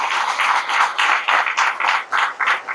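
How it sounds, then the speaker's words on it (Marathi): Loud applause at the 135th satsang, with a crowd clapping in uneven rhythmic surges that stay strong throughout and keep going. "एकदा जोरात टाळ्या व्हायला पाहिजे।"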